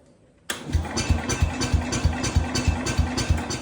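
A Cub Cadet International 105 snowblower engine on a cold day catches after a brief silence and settles into a close, loud, steady chugging idle with regular firing pulses.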